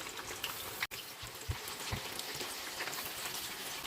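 Continuous crackling and sizzling of karaage chicken pieces frying in hot oil in a frying pan, a dense patter with occasional louder pops, fairly close and without speech.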